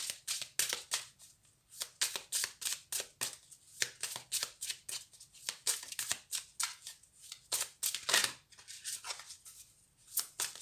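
Advice cards are shuffled by hand in a quick, rhythmic run of crisp riffling bursts, close and clear, with short pauses between handfuls and no talking.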